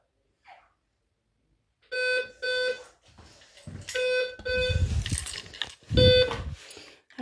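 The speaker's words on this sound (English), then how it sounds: "Just wait for the buzzer to ring." An electronic door buzzer rings at a home during a grocery delivery: after a brief faint noise, loud harsh tonal buzzes sound in repeated short bursts, mixed with rattling and thumping near the door.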